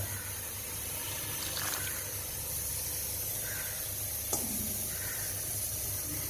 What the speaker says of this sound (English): To this I am going to add the tamarind water.